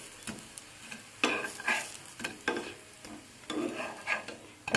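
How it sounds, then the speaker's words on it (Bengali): Green pea fritters fry in a pan of hot oil, giving a close, steady sizzle that is broken by repeated bursts of stirring and scraping with no voices. "একইভাবে আমি এগুলোকেও ভেজে নেব।"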